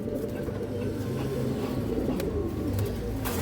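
Close, steady cooing from a group of Tota female pigeons on a pigeon farm, low throaty calls rolling over one another without a break and with no clear talk.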